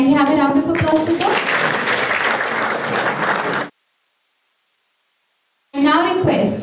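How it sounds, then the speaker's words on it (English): Conference audience applause, loud and dense, cut by a sudden silence of about two seconds before clapping resumes, with a voice heard briefly at the start. "Can we have a round of applause for sir?"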